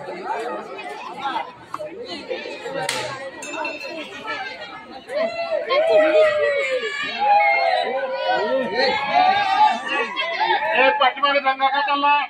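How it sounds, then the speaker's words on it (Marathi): A crowd of people chatters at the back of a Republic Day school program, a continuous babble of many overlapping voices that grows louder partway through, with a few faint clinks. "पाठीमागे दंगा का चाललाय?"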